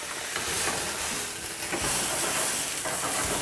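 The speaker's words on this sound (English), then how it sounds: "This is called flambe." A flambé flaring up as alcohol deglazes a pan of chicken Marsala, giving a loud, broad, steady rushing hiss and sizzle that runs throughout, with no voice over it.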